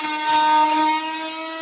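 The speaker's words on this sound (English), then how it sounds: "and then I get out my Dremel tool" A Dremel rotary tool cutting a 5-gallon plastic bucket, a steady high-pitched whine running briefly and evenly close by.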